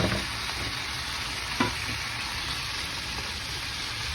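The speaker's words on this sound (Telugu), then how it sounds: "చూసారా ఎలా ఫ్రై అవుతుందో." Chicken fillets frying in a pan give a steady, close hiss of sizzling oil with a faint clink of a utensil partway through; no one speaks.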